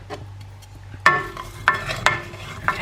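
Onions with a pinch of salt cooking down in a pan: a soft, steady sizzle runs underneath while a utensil stirs, giving several sharp scraping knocks against the pan at uneven intervals.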